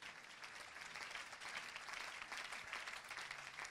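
A church congregation at a French-language worship service applauds together, a dense, steady wash of clapping that stays loud and even throughout with no talk over it.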